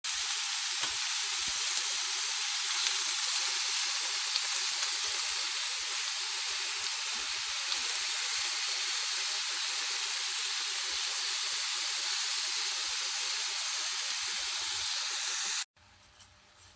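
Cheesesteak meat for a Philly-style sandwich sizzles in a pan with a loud, steady, close hiss that holds for about fifteen seconds and then cuts off abruptly.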